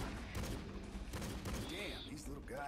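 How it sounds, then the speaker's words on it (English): Pistol shots ring out in the video game Jurassic: The Hunted, a quick run of sharp, punchy reports layered among game effects and talking voices. "That's a meaty sounding pistol shot."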